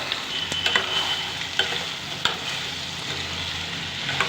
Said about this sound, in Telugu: చూడండి ఆయిల్ బయటకు వచ్చేలా వేగుతుంది కదా